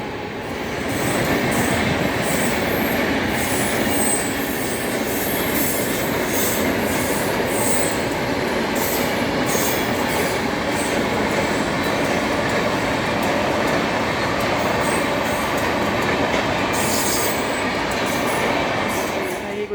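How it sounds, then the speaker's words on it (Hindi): An express train passing through a railway station at night, a loud continuous roar of wheels on rails with rhythmic clicking and high squeals, close by and sustained throughout. "और ये पीछे कोई एक्सप्रेस ट्रेन जा रही है।"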